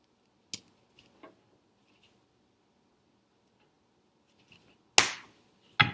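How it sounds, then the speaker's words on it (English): Cutting pliers snipping a small metal link on a beaded necklace chain: a sharp isolated click near the start, a couple of faint ticks, then two crisp loud snaps close together near the end, otherwise quiet. "that link right there is the one I'm going to cut."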